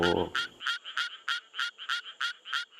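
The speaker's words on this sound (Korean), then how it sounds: "이것은 수원청 개구리하고" A Suwon tree frog calls in a rapid, regular series of about a dozen bright, raspy pulses, close and clear over quiet, after a brief low sound at the start.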